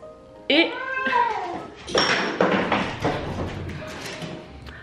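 A pet cat meows with a rising, whiny call, then thumps and taps around nearby indoors, with a person talking over the bumps.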